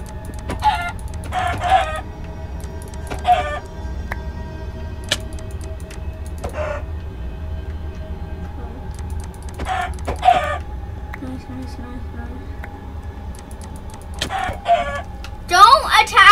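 Chickens in the Minecraft game Insanecraft cluck and squawk in repeated short bursts with a crowing call, over a steady low game hum, with a louder flurry of clucks at the end.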